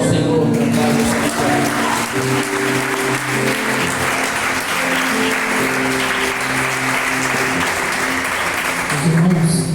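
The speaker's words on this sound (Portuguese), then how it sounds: "E a igreja aplauda ao Senhor, meu Pai." A church congregation at a Friday evening service applauds, a loud, continuous roar of clapping held for several seconds, with sustained tones from instruments or voices running underneath.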